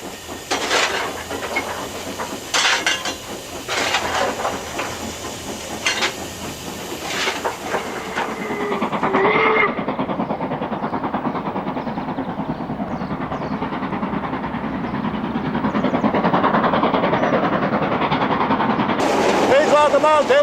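LMS Black Five Stanier Class 5 4-6-0 steam locomotive working a train, with steady rumbling and hissing mixed with rail clatter that swells and grows fuller partway through, loud and continuous.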